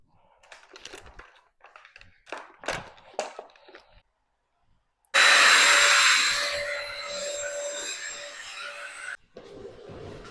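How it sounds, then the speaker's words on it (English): A combination steamer and vacuum cleaner cleans floors indoors. After several seconds of scattered clicks and handling sounds it switches on with a loud, steady, high whine that runs for about four seconds and then cuts off. "I'm going to clean the floors with this steam vac that I have."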